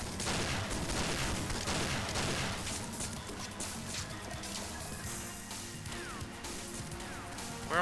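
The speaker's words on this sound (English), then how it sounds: "Where am I getting shot from?" Continuous dense gunfire from the James Bond 007: Nightfire video game, rapid overlapping shots and impacts forming a loud, unbroken barrage throughout.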